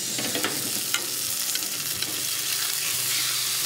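Boneless skinless chicken breast sizzles steadily in a hot pan right after being flipped, a close, dense crackle with scattered pops and spatters, no voices.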